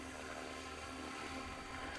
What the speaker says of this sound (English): It's a nice helicopter